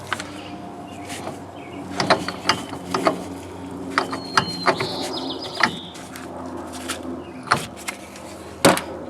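Rear wheel hub on a Chevy being tightened by hand during a wheel seal replacement, with sharp intermittent ratcheting clicks and metallic mechanical clatter, close and moderately loud, with no talking.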